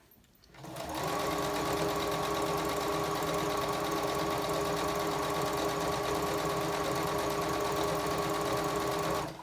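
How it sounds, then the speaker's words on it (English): After a brief quiet moment, a sewing machine starts up and stitches rapidly and steadily through a quilted placemat with needled batting at close range, a loud even whirring hum to the end. "I'm just gonna drop my needle and start sewing."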